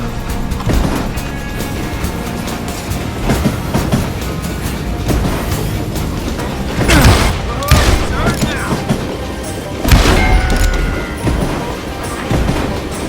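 Gunfire in the Call of Juarez Gunslinger video game bursts out in loud, repeated shots and booms over a dense, constant action soundtrack, with shouting voices in the mix.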